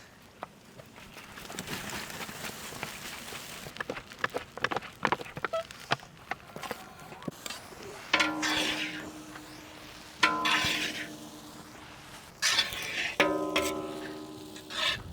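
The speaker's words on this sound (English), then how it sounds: "Now we will add boiled rice." Boiled rice being tossed and stirred into a pan of golden shrimp fried rice: irregular scraping and rustling bursts with light sizzle, moderately loud and close, with no talking.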